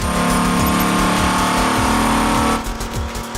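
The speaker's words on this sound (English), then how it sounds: "The team pushes the engine to redline" A loud, high-revving Dodge Viper V10 engine roars steadily near redline, its pitch holding high before easing slightly near the end.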